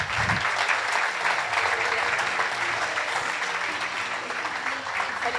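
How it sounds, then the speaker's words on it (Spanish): Sustained, full audience applause welcoming a speaker to the stage at a talk on TikTok ads, a loud, dense, continuous wash of clapping with a faint low murmur beneath. "Y con un gran aplauso, por favor, vamos a recibir a Santiago Cruz."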